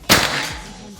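A Bocap Escobar PCP air rifle fires a heavy 15-grain slug at about 900 fps, giving one sharp, loud, close crack followed by a brief fading ring and a faint thud.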